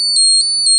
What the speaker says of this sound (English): You exceeded 200. And the alarm has gone off.